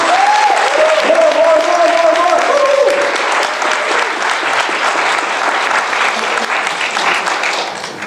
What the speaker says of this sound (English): Give her a big hand.